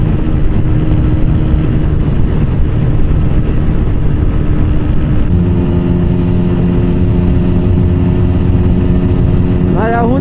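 A Honda CBR125R motorcycle engine runs steadily at close range, a constant droning hum with a gear or rev change midway, heard from the rider's position with wind noise.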